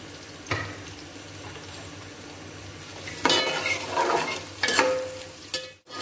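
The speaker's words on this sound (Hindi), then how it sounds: "अब हम प्याज को ब्राउन करेंगे।" Sliced onions frying in a pan for biryani, a steady sizzle broken by several scraping, clattering stirs of a metal spoon against the pan, close and loud with no talk.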